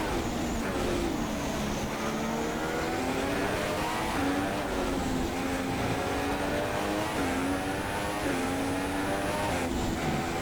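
A Formula One race car in F1 2016 drives into the pits at the Australian Grand Prix, its engine droning steadily and loudly throughout with rising and falling pitch as it slows, with no voices over it.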